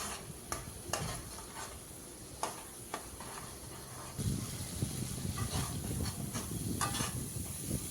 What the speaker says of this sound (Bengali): মশলা থেকে দেখুন তেল ছেড়ে দিয়েছে, মশলা খুব ভালোভাবে কষানো হয়ে গেছে